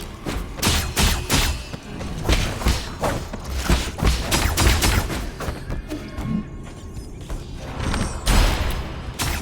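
Gunfire rattles in the platformer Nine Sols, with rapid, punchy bursts of sharp shots and thuds coming in uneven clusters. The shots are loud and close over a busy game backdrop.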